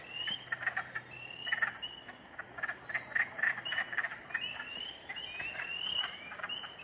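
Spring peepers and other frogs call in a chorus, overlapping high chirps and trills repeating steadily at a moderate distance against a soft outdoor background.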